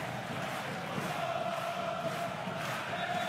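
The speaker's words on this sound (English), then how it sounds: "Crowd on their feet making noise." A basketball crowd in a Champions League game between Holon and PAOK is on its feet cheering. The arena sounds like a broad, steady roar, distant and reverberant, holding an even level throughout.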